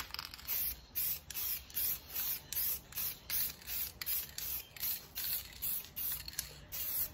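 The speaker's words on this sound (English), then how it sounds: "I like to use a spray can that has the primer underneath as well" A spray can paints a billiard table frame black in short, regular bursts of hissing spray, about a dozen evenly spaced passes, close and faint with no talking.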